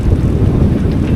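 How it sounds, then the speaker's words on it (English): Wind buffets steadily at sea aboard a sailboat headed straight into it near Catalina Island, a continuous low rumbling roar with no pauses across the short stretch. "Wind's picked up"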